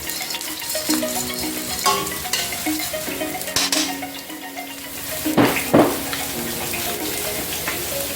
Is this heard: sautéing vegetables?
yes